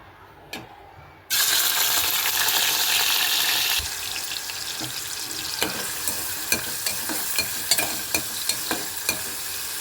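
Raw prawns dropped into hot oil in a pan set off a sudden loud sizzle that holds steady, then settles into a softer frying hiss punctuated by regular clinks of a spoon stirring against the pan.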